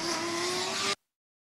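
A loud Formula Student combustion race car engine roars steadily at high revs for about a second at an autocross event, then cuts off abruptly into silence.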